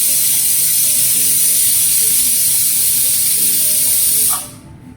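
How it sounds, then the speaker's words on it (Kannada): A pressure cooker cooking chicken biryani lets off a loud, steady high-pitched steam whistle that runs unbroken for about four seconds, then cuts off abruptly into quiet. "ನಾನು ಇದಕ್ಕೆ ಒಂದು 4 ವಿಸಿಲನ್ನು ಹಾಕೋತೀನಿ"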